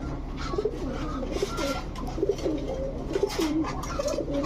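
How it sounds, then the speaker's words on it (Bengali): A pair of high-flyer Giribaz pigeons coo in soft, repeated low throaty phrases, close by, over a steady background hum with no talking. "এখন দেখাবো এক জোড়া হাই ফ্লায়ার গিরিবাজ কবুতর"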